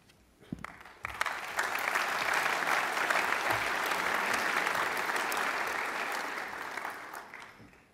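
Sustained applause from an audience at a secondary school awards celebration, swelling after a few scattered claps and holding steady and dense for several seconds before tapering off.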